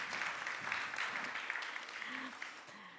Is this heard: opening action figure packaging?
no